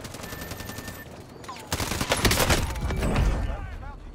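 Gunfire and sniper shots in the Warzone video game, a sparse crack early followed by a dense burst of rapid shots and explosions, loud and close.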